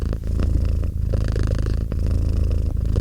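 A cat purrs loudly and close up, a continuous low rumbling with rhythmic breathing cycles, no other sounds.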